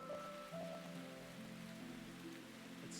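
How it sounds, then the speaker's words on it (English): Rain falls steadily in the video game Root Letter as a soft, continuous hiss of drops on surfaces, layered under faint sustained background music tones, with no voices. "It's starting to rain."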